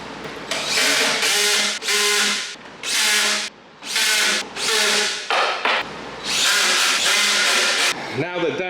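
A power drill tightens screws on an Ulti-MATE two-door tall garage cabinet during assembly. It gives a series of loud, close whirring bursts separated by short pauses, and a brief different noise ends the clip.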